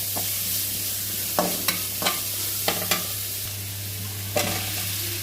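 Onion and chopped coriander sautéing lightly in a pan for a bread sandwich filling, a steady low sizzle under a constant hum, broken by five or six sharp spoon scrapes and stirs against the pan.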